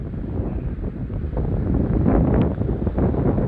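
Strong wind buffeting the microphone outdoors near water, a loud continuous rumbling roar that swells midway, with no speech heard.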